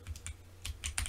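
Rapid clicky keystrokes on an ROG Azoth mechanical keyboard during a Black Mesa gaming session, a quick cluster of sharp taps followed by a denser burst, close and fairly quiet over a low steady hum.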